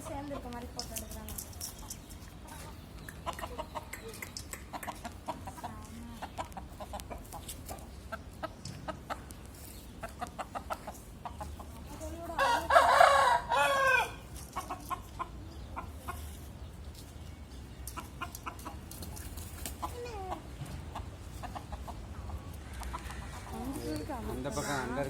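Backyard chickens cluck and a rooster calls out in a rural home yard, with a louder burst of crowing partway through, while people talk over the birds throughout.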